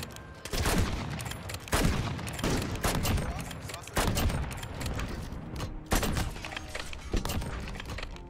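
SPR 208 sniper rifle firing in Modern Warfare: loud, sharp single shots spaced roughly a second or two apart, each with a ringing tail over a busy battle backdrop.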